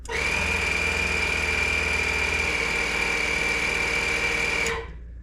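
A portable electric air pump, used to inflate something on a road trip, runs with a steady, loud whining drone for almost five seconds and then cuts off abruptly, leaving only faint background hiss.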